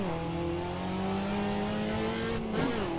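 A race car engine in a racing video game holds a steady, loud droning rev, with the pitch dipping and wavering briefly near the end as the revs bog down.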